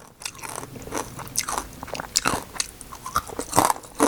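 Crunchy biting and chewing of honey salted roasted pork, a close, loud series of irregular crisp crunches filling the moment with no talk.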